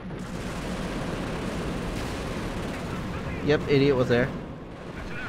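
Artillery bombardment in Company of Heroes, a continuous rumbling barrage of distant heavy blasts rolling under a brief spoken line, with a sharper burst of impacts near the end.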